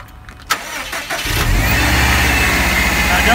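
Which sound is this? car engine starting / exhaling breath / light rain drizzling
car engine starting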